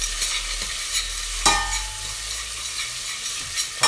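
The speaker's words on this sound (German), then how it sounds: "dass das Hähnchen vielleicht ein bisschen anbrät, sich auch so ein bisschen Röstaromen entwickeln können" Chicken pieces browning in a pot for a Madras-style curry, a steady close sizzle broken by a few sharp utensil scrapes and knocks against the pot as it is stirred.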